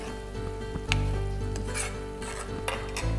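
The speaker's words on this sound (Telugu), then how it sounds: "మధ్యలో తీసి దానిలో చింతపండు గుజ్జు యాడ్ చేసుకోవాలి. దాంతోపాటు కొద్దిగా బెల్లం వేయాలి. ఒక్కసారి చక్కగా కలుపుకొని" Chicken with tamarind pulp and jaggery is stirred in a hot pan, with a continuous sizzle under a low steady hum and occasional scraping and clinking strokes of the spoon, close by and with no voices.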